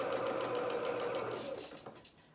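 A sewing machine runs steadily, stitching down the seam of a small fabric boot for a festive doll outfit, a close continuous whir that slows and stops near the end.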